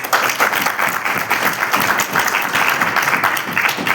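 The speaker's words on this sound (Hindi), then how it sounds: "सबसे पहले आप सभी के लिए जोरदार तालियां होनी चाहिए।" An audience at a business talk breaks into strong, sustained applause, a thick wash of many hands clapping close and loud for several seconds with no speech on top.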